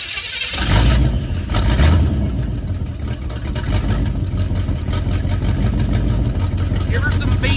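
A 1978 Chevrolet Nova engine with open headers cranks and catches, then settles into a loud, rough, rumbling idle that stays steady throughout.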